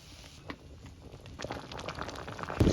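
Pangas fish from a four-kilogram catch goes into a mustard sauce on the stove, giving a steady low bubbling simmer and sizzle that grows slightly louder, with a sharper burst of crackling near the end.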